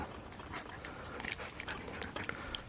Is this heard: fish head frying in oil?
no